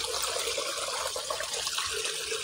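Water flows steadily in a canal, a continuous broad rushing wash with no breaks, heard alone.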